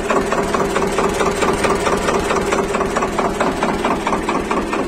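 A 2013 Swaraj tractor engine idling slowly at close range, a steady, loud diesel chug with an even knocking beat throughout and no talk.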